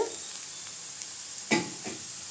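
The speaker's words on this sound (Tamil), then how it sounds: "வெங்காயம் நல்லா வதங்கிடுச்சுங்க பாருங்கள் செவந்து வந்துடுச்சு" Onions sauté in a pan until reddened, a soft constant sizzle with a couple of brief stirring scrapes and clinks.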